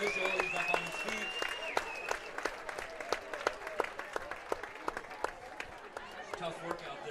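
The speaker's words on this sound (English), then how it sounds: "Round of applause for our official." Scattered crowd applause at a high school football game as an injured official gets back up, sparse distinct claps spread through the clip over a crowd murmur and background tones.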